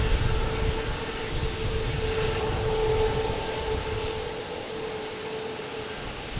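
JetBlue airliner in Mario livery landing at Boston Logan Airport, a steady distant engine rumble with a sustained whine that gradually fades, no voices over it.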